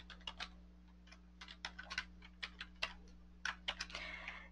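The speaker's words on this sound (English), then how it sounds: "So I'm going to type in my username," Typing on a computer keyboard while entering login credentials, a quick run of distinct clicking keystrokes in irregular bursts, close and fairly quiet, with no voice.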